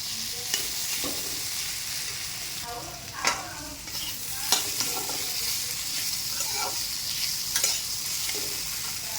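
Fish stirred with salt in a blackened iron wok, giving a continuous close frying sizzle with a few sharp scraping strokes of the spatula against the metal.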